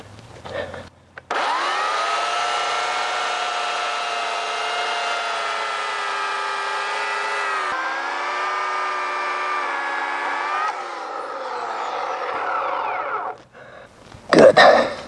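A chainsaw cuts all the way through a log during chainsaw turning, its engine a loud, steady whine held for about twelve seconds with a slight pitch dip midway before it winds down.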